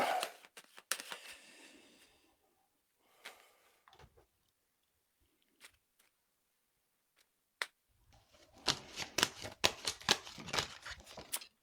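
A deck of tarot cards is cut and shuffled close up, with scattered soft flicks and taps that end in a dense run of quick riffling card snaps.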